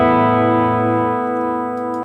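An electric guitar chord rings out through a Harley Benton DNAFX OD808 overdrive, thick and harmonically rich, sustaining loudly and evenly before being cut off after about two seconds.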